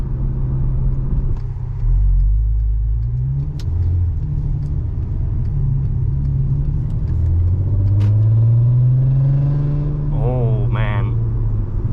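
A Volkswagen Golf MK5 R32 V6 engine runs with a deep, throaty rumble that rises and falls as it revs while driving, loud and close, with a brief voice near the end.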